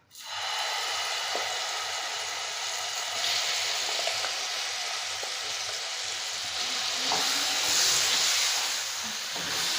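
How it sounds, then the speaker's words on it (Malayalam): Ground date paste cooks in ghee in a hot pan with a continuous bright hissing sizzle. It holds steady and fairly close, with faint clicks and no voices. "അപ്പോൾ നമ്മൾ പാൻ ചൂടാക്കി കുറച്ച് നെയ്യ് ഒഴിച്ചു കൊടുക്കാം. ഇതിലേക്ക് നമുക്ക് അരച്ച് വെച്ചിരിക്കുന്ന ഡേറ്റ്സ് ചേർത്ത് കൊടുക്കാം."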